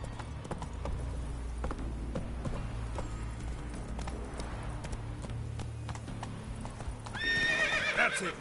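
Roach, the horse in The Witcher 3, trots with steady clip-clop hoofbeats, then gives a loud whinny near the end.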